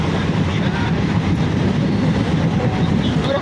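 A passenger train on a Purulia line rolls along the tracks with a loud, continuous low rumble and a dense rattle, heard from inside the carriage.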